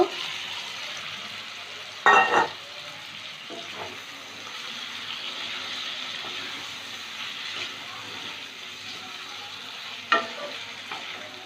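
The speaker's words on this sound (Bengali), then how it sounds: "পটলগুলো মশলার সাথে এক মিনিট কষিয়ে নিলাম" Pointed gourd pieces sizzle and fry in a spiced masala, with a steady frying hiss broken by two sharp clatters of a spatula stirring the pan, no voices.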